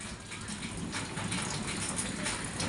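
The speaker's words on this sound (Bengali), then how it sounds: "এই যে আবার বৃষ্টিও পড়ছে" Rain falls in a steady broadband patter, constant and moderately loud, with no voices and no thunder.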